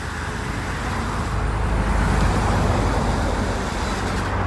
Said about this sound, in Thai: อยู่หน้าทางเสียงรถก็จะรบกวนหน่อยครับ